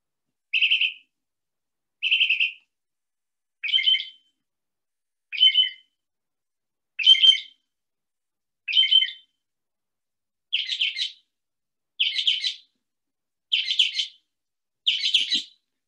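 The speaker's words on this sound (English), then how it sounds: "the mockingbird repeats himself several times and then pauses and then says something new" A northern mockingbird singing in the northeastern United States, ten clear, bright phrases spaced evenly about every one and a half seconds, the later ones fuller and louder, alone against silence.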